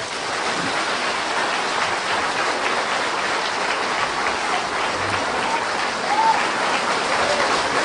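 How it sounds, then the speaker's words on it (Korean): An audience claps steadily in a dense, even burst of applause that holds for several seconds without letup. "뜨거운 박수로 환영하겠습니다"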